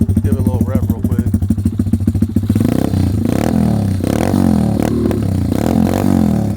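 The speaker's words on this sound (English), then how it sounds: "Little X-Moto 125cc. Give it a little rev real quick." An X-Moto 125cc mini bike engine sputters unevenly at first, then revs up loudly and holds a raw, rattling, buzzing roar with rising and falling pulls, close by.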